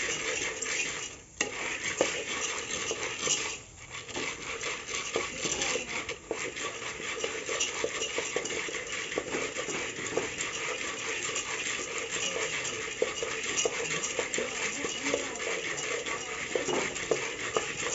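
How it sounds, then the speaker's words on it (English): Popcorn kernels being stirred in a pot over heat make a continuous scraping, rattling texture. Faint metallic clinks from the utensil sit under a steady background hiss. "Stir it until new popcorn is born."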